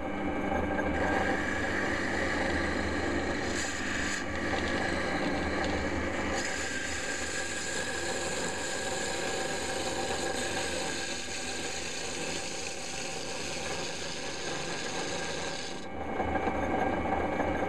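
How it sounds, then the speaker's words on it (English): Wood lathe turning a piece of wood, a continuous rasping, scraping whir as the tool cuts, steady and fairly close, with a slight shift in texture partway through and no talk. "Stop the lathe."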